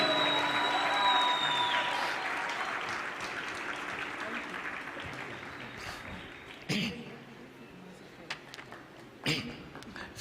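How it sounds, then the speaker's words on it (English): A crowd claps, loud at first and then thinning out into scattered applause, with a couple of sharp bumps near the end. "If you love Dr. Biswarup, I would prefer a better clap than this."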